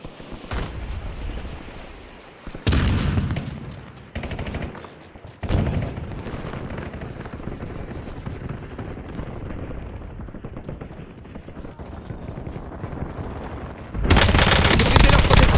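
Video game gunfire from Warzone, with repeated bursts of automatic and single shots through most of the clip and a loud, dense stretch at the very end, mixed with faint game voice.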